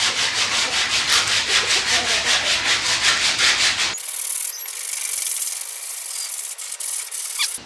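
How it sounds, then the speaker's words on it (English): Hand sanding on a wooden breadboard makes quick, even back-and-forth rasping strokes, loud and close. The strokes stop midway and leave only faint scratchy handling noise. "I think I'm going to work on sanding the actual breadboard."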